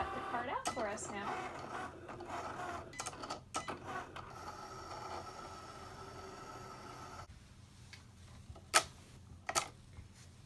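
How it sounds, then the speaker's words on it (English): A Cricut Make cutting machine cuts out a card, giving a close mechanical whir with small clicks and ticks and a couple of sharp knocks near the end, while a voice talks over the first part. "It's done writing, so it's going to cut the card out for us now."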